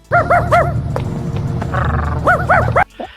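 A human voice imitates dog barking, giving quick triple bursts of rough, rising woofs at the start and end, loud and close over a low rumble.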